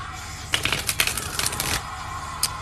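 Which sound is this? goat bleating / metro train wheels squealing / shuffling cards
shuffling cards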